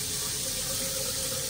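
Water streams steadily from the sink tap in a hotel bathroom at the InterContinental Beijing Sanlitun, a constant close hiss running at modest pressure with no voices.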